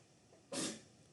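A single short, sharp sneeze bursts out abruptly in a quiet classroom, one loud breathy blast lasting a fraction of a second.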